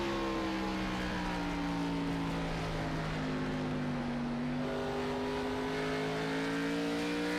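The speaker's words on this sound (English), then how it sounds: "Doesn't sound like he's shutting off the engine at all now" Race car engine at Richmond in a racing video game, a steady high-pitched drone with smoothly shifting tones as it holds throttle through the lap, loud and continuous with no talking.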